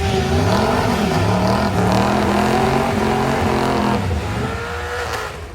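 Big diesel drag vehicle at a dragway, its engine roaring loud and close with rising and falling revs, then easing slightly toward the end.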